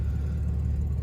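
Old classic V12 engine idling during a storage start-up, a steady low mechanical hum and rumble, even and continuous over the short stretch.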